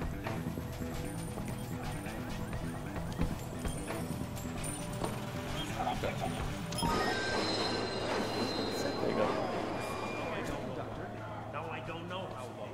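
A train running in the video game Halo 3 ODST, with steady rhythmic wheel clatter and rumbling carriage noise, brightening partway through with metallic squeals, under game music and voices.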